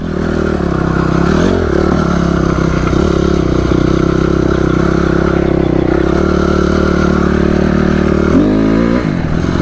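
A motorcycle engine growls loudly and steadily, with a sharp throttle blip near the end lifting the front wheel into a wheelie, and some clattering underneath.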